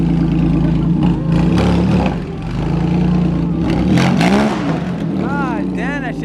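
Loud car engines rumble and rev close by at a car show, with throaty bursts and clatter, while people talk over the noise.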